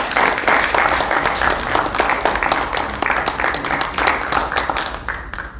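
Loud, dense audience applause fills an award ceremony hall as a youth award winner comes up to speak, steady clapping throughout that thins slightly at the very end.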